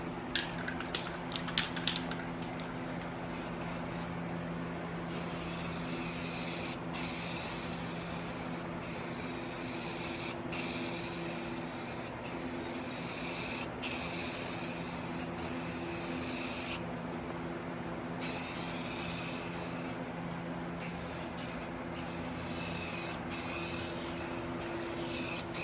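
Light primer coats are sprayed onto a 1FZ-FE engine short block, a close, loud aerosol hiss in repeated bursts separated by brief pauses.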